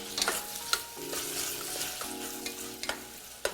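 Garlic stir-fries in olive oil in a pan, with a soft sizzle broken by several sharp clicks and scrapes of the utensil over a few seconds. No voices are heard.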